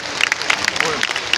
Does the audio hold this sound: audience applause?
yes